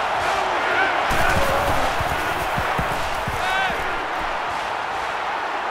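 A college football video game crowd at a stadium, Utah State at Oklahoma, keeps up a dense, steady roar throughout, with a faint voice briefly surfacing near the middle.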